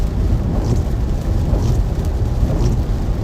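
A severe Florida thunderstorm fills the air with a dense, steady roar of heavy rain and wind, deep rumbling thunder rolling underneath without a break and no voices.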